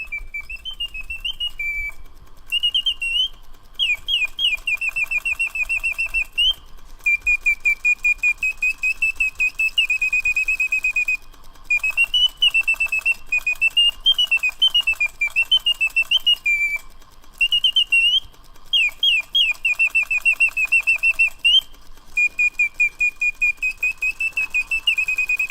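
Mechanical singing bird automaton, its piston flute producing bursts of high, warbling chirps and trills in repeated phrases separated by brief pauses, clear and alone over a faint mechanical background.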